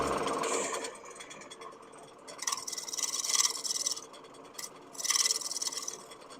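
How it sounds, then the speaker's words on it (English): Wood lathe spinning a piece as a spindle gouge cuts it, a faint steady hum broken by several rasping, hissing bursts as the tool bites, with no talk. "let's use the spindle gouge"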